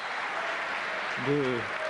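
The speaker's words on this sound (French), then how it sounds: "Le public continue à applaudir Joël." An audience applauds steadily at a pétanque tournament final, a dense, even wash of clapping that fills the whole moment, while a voice rises briefly over it.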